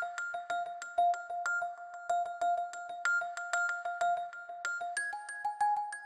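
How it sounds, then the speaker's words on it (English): Bright bell droplet tones from the Subnautica Below Zero soundtrack, a steady sparkling pattern of struck chime notes with ringing tails, clean and alone. "this is like the bell droplets. You've heard this all throughout the Below Zero soundtrack"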